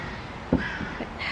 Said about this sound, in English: it's quite nice just sitting out here with the sound of the birds